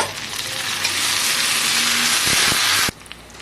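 Ginger-garlic paste hits hot oil with browned onions in a pan for chicken curry, giving a loud, close, continuous sizzle and hiss that cuts off abruptly near the end.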